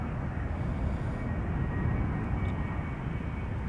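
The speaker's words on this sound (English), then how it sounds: "Air Transat arriving from Montreal, A321neo." Loud, steady low roar of an Air Transat Airbus A321neo arriving at Schiphol, a continuous engine rumble with no voices over it.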